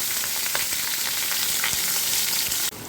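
Chopped onion fries in a pan, giving a steady, close crackling sizzle that briefly shifts in tone near the end.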